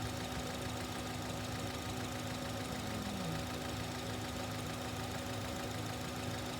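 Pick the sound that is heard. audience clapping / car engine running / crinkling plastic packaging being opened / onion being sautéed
car engine running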